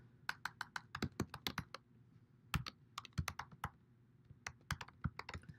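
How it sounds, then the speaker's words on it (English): Someone types on a computer keyboard, a quick run of crisp close key clicks in short bursts with small pauses between groups, fairly soft and with no talking. "type in the email."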